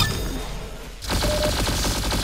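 Gunfire in the Roblox-style shooter Arsenal erupts after a brief lull, a rapid loud burst of repeated shots layered over game music, with no talking.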